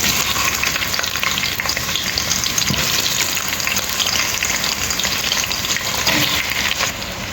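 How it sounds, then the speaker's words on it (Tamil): Sliced onions crackle and hiss in hot oil with cardamom and cloves for masala chicken biryani, a loud, close, continuous sizzle with scraping stirs, no talking. "வெங்காயம் போட்டாச்சு. வதக்குவோம்."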